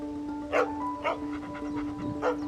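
Dogs pant and let out a few short barks, three brief bursts spread across a couple of seconds over a steady low hum, fairly close.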